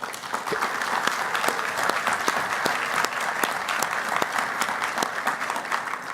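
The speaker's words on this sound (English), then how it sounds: "please give her a round of applause" A conference audience at a caucus plenary session gives a steady, moderately loud round of applause with distinct individual claps throughout, and no talking is heard.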